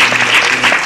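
Audience applause for a speaker at a Republic Day (January 26) stage event, a dense, steady wash of many hands clapping throughout, close and loud with no speech.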